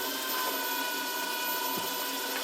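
A wood lathe turns an acrylic bullet pen blank during polishing, giving a steady, fairly quiet mechanical whir with faint tonal hum and light rubbing noise throughout, without speech.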